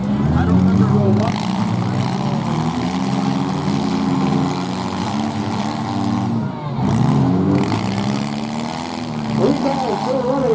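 Compact cars in a demolition derby at the Rice County Fair run their engines in a loud, steady mix of revving motors, with an announcer talking over the din.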